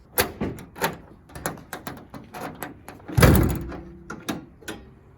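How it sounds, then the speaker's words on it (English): Clunks and latch clicks as the bonnet of a Nissan R32 GTR is released and lifted, a string of short knocks with one heavier thud midway, close by. "the real good's under the bonnet. So I'll pop it, give you guys a look at the heart of this thing."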